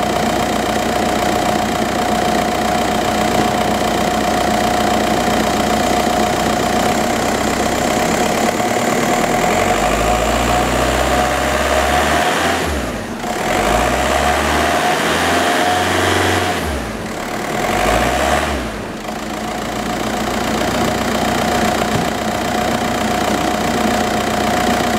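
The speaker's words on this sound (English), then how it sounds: "we're just going to rev the engine a little bit just so you can hear exactly how it sounds" A 2004 Volkswagen Jetta engine with 179,000 miles idles steadily up close, then revs up twice in short bursts before settling back to a low, even idle.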